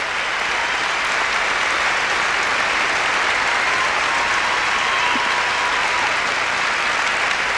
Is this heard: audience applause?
yes